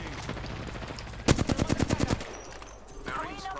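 Burst of automatic gunfire in Apex Legends, about nine rapid, evenly spaced shots close and loud, set among quieter game sounds with a voice chirping briefly afterward.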